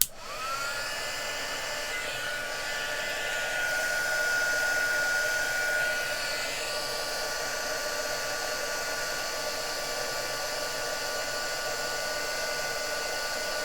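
A heat embossing gun blows with a constant loud whirring hiss from start to finish, swelling slightly midway.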